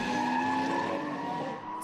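Drift race car sliding through a corner with its wheel hung over the ripple strip, a sustained tonal tire squeal and engine drone lasting about two seconds, loud and close.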